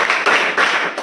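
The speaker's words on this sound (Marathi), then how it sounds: "सरांच्यासाठी सगळ्यांनी एकदा जोरदार टाळ्या वाजवा" A crowd applauds a coach at a felicitation event in Konkan, the clapping dense and steady with two swelling surges, close and loud with no voices over it.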